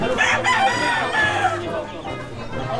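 Chickens and a rooster crow and cluck close by in a Manila setting, several overlapping calls filling the short stretch with bright repeated cries.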